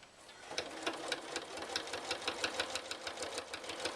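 A sewing machine runs steadily while stitching binding onto a jelly roll race quilt with a quarter-inch seam, giving a fast, even mechanical chatter close by.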